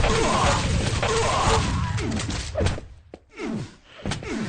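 Grenade blast in a 2v2 team deathmatch first-person shooter match: a loud, close burst breaking through a dense, continuous clatter of gunfire and impact thuds, followed by further sharp hits.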